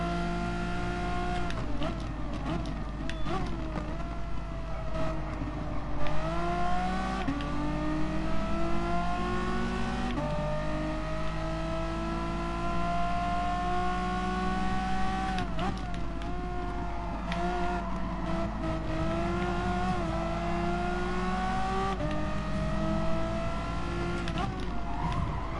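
Race car engines in Gran Turismo Sport on the Red Bull Ring, with several GR4 cars including an Audi, rising and falling through the gears in a continuous loud drone, with repeated revving climbs and shifts.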